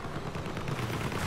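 Incoming gunfire striking the player's vehicle in the Crossout vehicle combat game, a rapid, muffled stream of hits and shots at moderate loudness, steady and unbroken across the short span.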